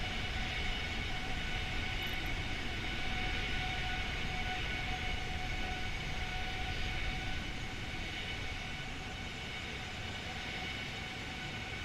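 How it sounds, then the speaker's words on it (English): An Airbus A320neo in a flight simulator game roars past in a steady, dense jet-engine drone with a faint whine, loud and continuous throughout, with no speech. "There's some flyby sounds."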